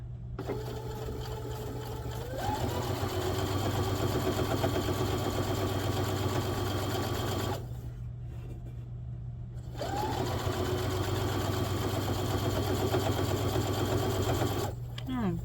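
A home sewing machine runs steadily, stitching a seam on an anthurium box pouch. It whirs in two long bursts with a short pause between them, close and even throughout.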